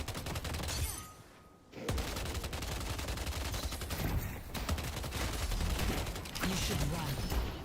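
Dense automatic gunfire in the Metro shooter video game, rapid sustained bursts from several weapons with a brief pause near the start, loud and close, with a voice talking underneath.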